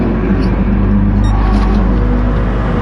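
Racing cars on an out lap at the Nurburgring, a loud, close engine drone with a steady low rumble and some rising revs, continuous and unbroken across the short stretch.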